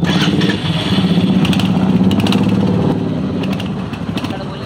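A Royal Enfield Hunter 350 motorcycle pulls away on a test ride, its single-cylinder engine thumping in a loud, pulsing rhythm close by before easing off, with voices talking over it.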